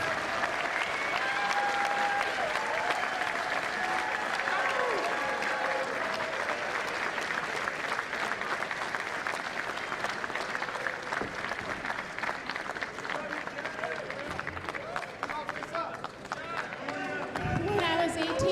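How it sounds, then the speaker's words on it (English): Loud, sustained applause and cheering from a wrestling arena crowd, steady for the whole stretch with dense clapping and a few louder swells near the end. "Give her a round of applause."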